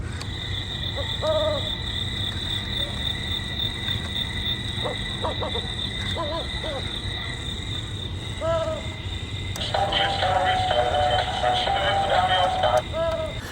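Owl-shaped Halloween decoration in a store hooting repeatedly in short electronic bursts over a steady background hum, followed by a brighter, busier electronic sound toward the end.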